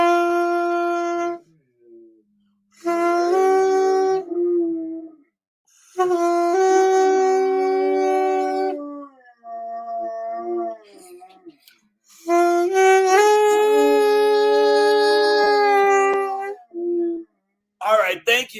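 A puppy howls along in long, sustained, wavering tones, several drawn-out howls with brief gaps between them, loud and close, with a person's voice joining at points.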